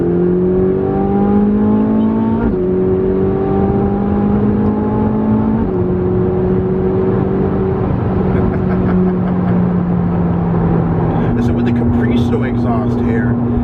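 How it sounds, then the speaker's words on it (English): A Ferrari 458 Spider V8 engine drones steadily from inside the cabin, rising in pitch through each gear before dropping at shifts, with a voice talking over it. "Exhaust here, it's like it doesn't even sound like a V8 almost."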